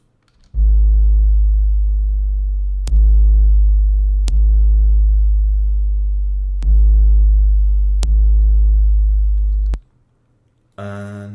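Deep, sustained synth bass from an oscillator pitched down octaves, restarting every couple of seconds with sharp attacks, loud and alone, ending in a brief noisy burst.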